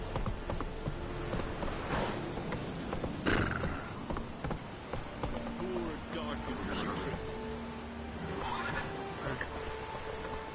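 Horse galloping in The Witcher 3, with rhythmic hoofbeats, neighs and rain-like ambience; a rider's voice calls out over the clip-clop.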